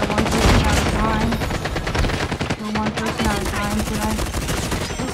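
A sentry gun in Call of Duty Mobile fires rapid, continuous automatic bursts, loud and close, mixed with game effects and a voice speaking underneath.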